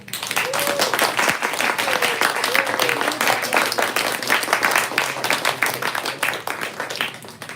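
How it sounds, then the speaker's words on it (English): An audience at a poetry reading claps for the poets, a dense, lively round of applause with individual claps standing out, steady for several seconds and tapering slightly at the end. "let's give them one more round of applause"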